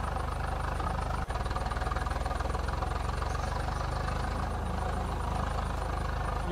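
John Deere 5210 tractor fitted with a V8 engine in Farming Simulator 22, a steady low engine drone idling continuously with a brief click partway through, loud and close with no talk.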